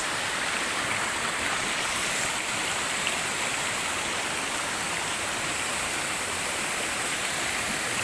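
A forest waterfall pours in a steady, unbroken broadband rush, loud and close, with no pauses or voices over the constant falling water.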